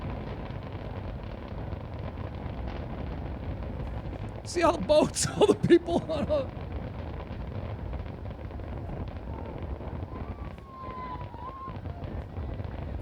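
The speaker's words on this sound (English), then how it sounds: "15 seconds of fireworks." A short burst of fireworks goes off over water crowded with boats and people on a July holiday evening, a few quick distant pops and crackles rising above wind noise while someone talks.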